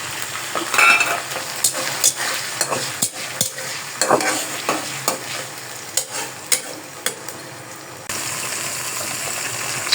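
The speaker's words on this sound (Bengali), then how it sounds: "তারপরে দিয়ে দেবো এই যে চিংড়ি মাছটা" Prawns frying in a pan with onion and ginger paste, stirred continuously with a utensil that scrapes and clicks against the pan over a constant sizzle, close up. The scraping pauses near the end while the frying hiss continues.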